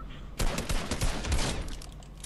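Rapid overlapping bursts of gunfire from a Fortnite Chapter 2 match, a loud fusillade of shots cracking in quick succession after a brief quiet start, with no talk over it.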